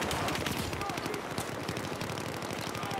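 Dense automatic gunfire from a shooter video game rattles continuously, rapid machine-gun bursts layered with heavier shots under talk.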